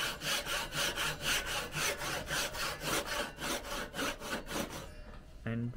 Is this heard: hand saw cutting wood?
yes